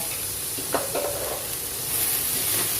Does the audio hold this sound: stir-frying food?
yes